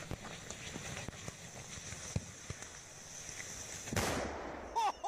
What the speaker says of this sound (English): Well, this is an explosion.